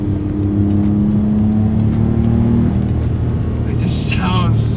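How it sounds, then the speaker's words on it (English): A naturally aspirated Porsche flat-six engine hums and revs with a rising mechanical tone, while someone talks over it. "Oh, the sound. The naturally aspirated Porsches, the flat six, is just"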